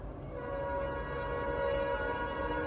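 A steady rumbling drone with sustained tonal hum of a train with two engines passing close by in Baldwin, Georgia, holding at an even loudness throughout.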